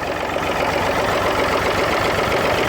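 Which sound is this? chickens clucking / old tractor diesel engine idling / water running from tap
old tractor diesel engine idling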